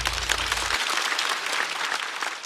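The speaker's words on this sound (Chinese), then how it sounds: "再次掌声送给高寒" Loud, sustained applause from a studio audience at a stand-up comedy show, dense clapping that continues evenly throughout.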